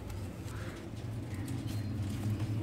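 A Sialkoti pigeon being handled and held in the hand during wing tying, with soft cooing and low rustling close by over steady background hum, no talk.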